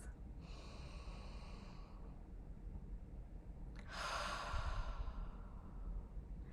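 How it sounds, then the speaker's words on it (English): Two deep inhalations drawn through hands cupped over the nose and mouth, each a breathy, hissing rush lasting over a second, close and soft against a quiet room hum. "Cup your hands over your nose and your mouth, shut down the eyes and breathe in deeply for 5 times"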